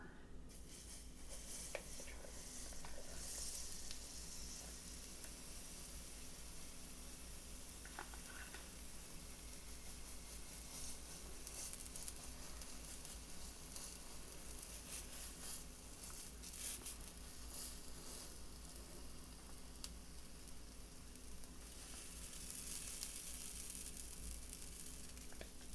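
Pancake batter sizzles steadily in a buttered pan while banana pancakes cook from scratch, a soft continuous frying hiss with faint crackles that stays even throughout.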